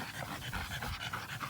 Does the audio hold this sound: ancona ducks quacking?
no